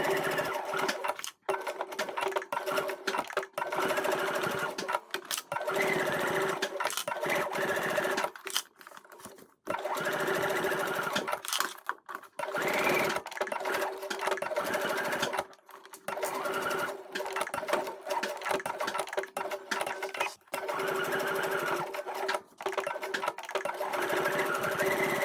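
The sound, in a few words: sewing machine stitching two rows on a bag seam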